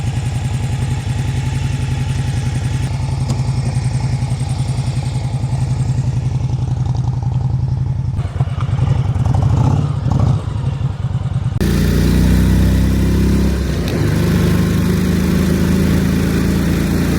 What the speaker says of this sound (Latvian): Lai būtu pavisam forši, brauksim mēs ar motociklu un vēl piedāvām kopā ar dēlu.